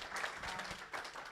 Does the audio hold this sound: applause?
yes